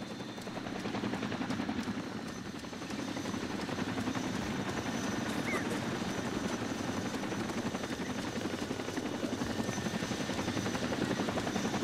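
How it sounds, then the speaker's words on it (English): Helicopter in the military game United Operations, a continuous rotor drone with rapid blade chop and engine hum, steady and loud throughout with no talking. "Right, moving back to the chopper, mounting up."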